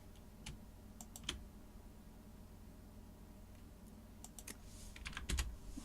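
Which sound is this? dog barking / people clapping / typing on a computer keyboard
typing on a computer keyboard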